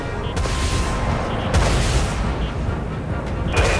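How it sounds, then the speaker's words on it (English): Heavy broadside plasma guns on a spaceship firing in the video game Dreadnought, booming blasts over a dense rumbling roar, with a few sharp hits standing out, loud and continuous. "Broadside plasma guns locked on enemy vessel."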